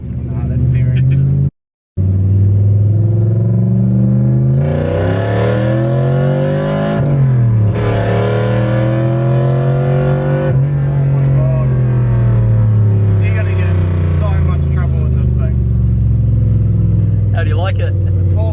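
A Toyota Cressida with a swapped 1UZ V8 engine accelerates hard on the road, its loud, near engine note climbing through rising revs in several sweeping pulls with a brief cut, running steadily throughout.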